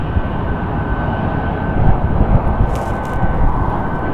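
Southwest airliner taking off from Las Vegas Harry Reid International Airport in gusty wind, a loud continuous jet roar that swells slightly, heard from a distance without other sounds.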